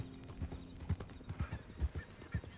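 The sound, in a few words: horse herd galloping in a video game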